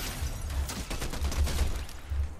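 Gunfire in a Fortnite match, a rapid rattling fusillade of shots with low thumps, continuous and fairly close throughout.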